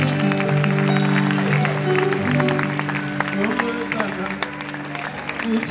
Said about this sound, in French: Acclame bien le Seigneur